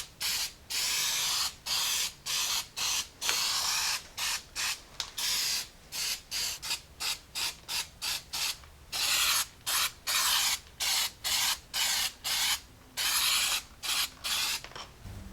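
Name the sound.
spray painting behind Jeep Cherokee XJ frame stiffener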